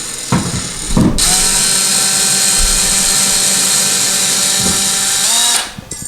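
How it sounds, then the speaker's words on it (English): An electric screwdriver backs towel rack screws out of a tile wall, whirring in one loud, continuous burst for about four and a half seconds, framed by brief clicks and handling knocks before and after. "You can do it with your Phillips head screwdriver, or you can do it with your electric screwdriver"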